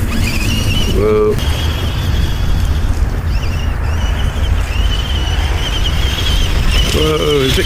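A brushed Traxxas Stampede 4x4 RC car drives over a gravelly track, its motor whining and tyres crunching loosely on gravel in a steady rumbling stream, with a few brief whirring revs along the way.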